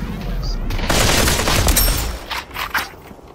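Gunfire in the VR shooter Population: One, with a dense burst of overlapping shots crackling through the first couple of seconds, then sparser sharp reports, close and loud, with faint voices underneath.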